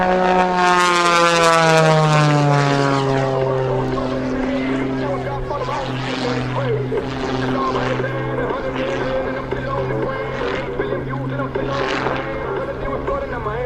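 The Lucas Oil Pitts aerobatic propeller plane flies at the Wings Over Houston air show, its engine drone sliding downward in pitch as it passes, steady and fairly loud throughout, with faint crowd and announcer sound underneath.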